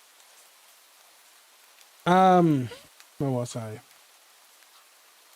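Soft, steady rain ambience plays quietly behind a livestream, with a voice briefly speaking over it.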